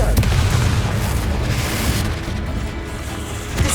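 A Confringo fire spell explodes in Hogwarts Legacy on PS5, giving a loud, deep booming blast with a rumbling tail that fills the moment, with no talk over it.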